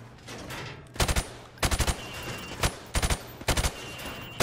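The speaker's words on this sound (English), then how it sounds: "I want you to shoot the targets through the wood." Rapid bursts of gunfire hit targets on a boot camp range in Call of Duty: Modern Warfare Remastered, loud sharp shots arriving in quick clusters of two to four separated by short pauses, with no talk over them.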